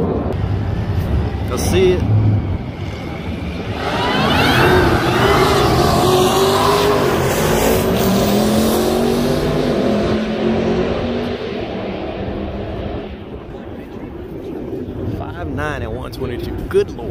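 Turbocharged drag car launching off the line at a drag strip, its loud engine roar building and sweeping past, then fading into distance, with people talking nearby.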